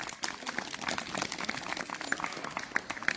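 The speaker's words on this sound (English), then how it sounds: "Let's give her another round of applause." Scattered clapping from a small audience after a scary story told at a gathering, a soft, uneven patter of hands that runs steadily throughout, moderately distant and fairly quiet.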